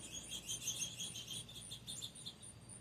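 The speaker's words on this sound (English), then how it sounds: "Quite the breakfast conversation going on between the birds today." Small birds, including a red finch, chirp and twitter busily around a backyard feeder in the morning. The high, rapid calls overlap and come in bursts, faint against a soft outdoor background, with no talking.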